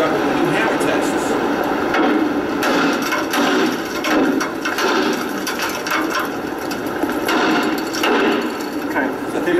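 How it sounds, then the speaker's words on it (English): A hammer strikes the steel treads of an old fire escape in Jersey City, sharp repeated clanging knocks at an uneven pace, fairly close, with ambient outdoor noise between hits. "We walk up with the new hammer tests."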